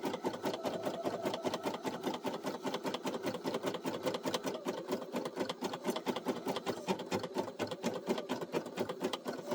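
A Brother SE1900 embroidery machine stitches the outline of a coffee coaster, a fast, steady needle chatter with an even rhythm running throughout at moderate, close-up level.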